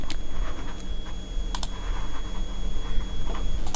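Fingers tap on a computer keyboard typing into a Chrome browser search box, a quick irregular run of close, crisp keystrokes with brief pauses, heard alone with no talking.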